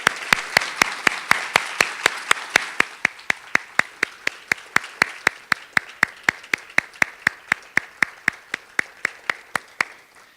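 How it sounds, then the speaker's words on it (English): An audience at an awards recognition ceremony claps in a steady, evenly spaced rhythm, the claps loud and close and fading slightly toward the end. "I'd like to give everyone a round of applause one more time to congratulate them for their outstanding work."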